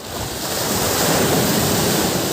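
Ocean surf rolls and washes in a continuous loud roar near a fishing spot by the shore, with wind buffeting the microphone.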